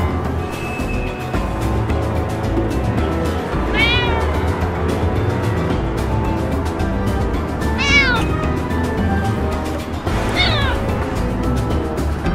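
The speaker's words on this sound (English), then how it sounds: "I really hate those cats, Nick." Cats meowing in the Nick Bounty adventure game, three distinct meows a few seconds apart over a steady background of game music and ambience.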